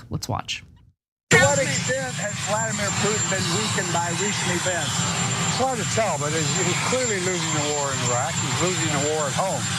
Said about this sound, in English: the audio was not great considering the helicopter in the background